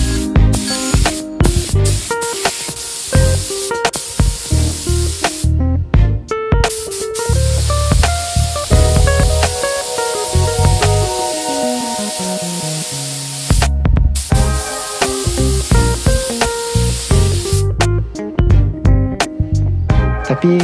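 A spray gun applies 1K primer from a can to a Yamaha X1R motorcycle part, producing a loud, steady hiss in long bursts with brief pauses between passes.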